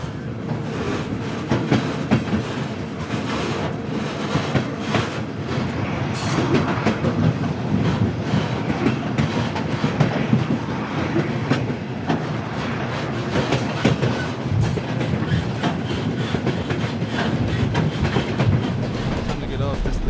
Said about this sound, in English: Time to get off this damn train.